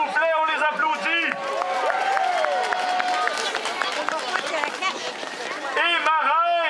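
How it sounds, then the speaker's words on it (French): An indoor crowd at a winter carnival in Lévis, Québec, applauds the carnival duchesses. Sustained clapping is mixed with cheering voices that swell at the start and again near the end. "s'il vous plaît, on les applaudit"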